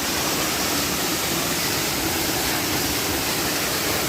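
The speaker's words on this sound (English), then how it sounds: "Just behind a waterfall." Gushing waterfall on the Pacific Crest Trail between Mt Hood and Trout Lake, heard from right behind the falling water: a loud, steady, broadband roar with no breaks and no voices.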